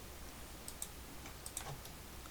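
Faint, sparse computer mouse clicks, a handful of short sharp ticks spaced irregularly over a quiet room background.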